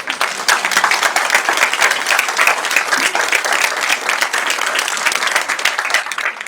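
An audience at a community meeting about a multipurpose centre project applauds with dense, steady clapping that stays loud and even for several seconds, with no speech over it.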